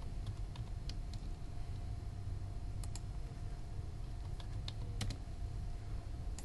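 Quiet typing on a computer keyboard while entering values into a CAD drawing, scattered soft key clicks over a low steady background hum.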